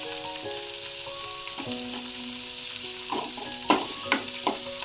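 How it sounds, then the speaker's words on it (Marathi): Onion and tomato being sautéed together in a pan with curry leaves, giving a steady close sizzle under a soft tonal hum, then a few sharp scraping stir strokes near the end, with no voices. "आपला हा कांदा परतून झाला आहे यामध्ये आपण टोमॅटो टाकून ते पण परतून घेऊ"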